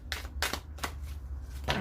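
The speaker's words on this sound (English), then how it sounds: "I should have shuffled these up." Tarot cards are shuffled by hand at close range, several quick crisp riffling bursts separated by short pauses, with no talking.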